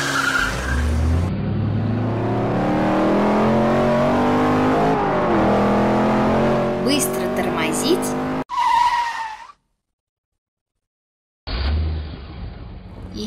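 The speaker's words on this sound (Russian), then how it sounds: "получится гоночная машинка, которая умеет быстро разгоняться" A race car accelerates hard with a loud, rising engine roar and squealing tires. A voice talks over it, and the sound then cuts out abruptly and returns after a gap.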